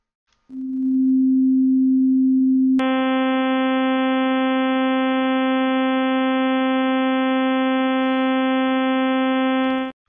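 A steady pure sine tone hums alone, then a brighter buzzy tone with many overtones joins it and both hold evenly until cutting off.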